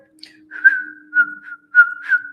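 A person whistles a wavering, breathy tune in several short phrases separated by pauses, close and fairly loud, over a faint steady low hum.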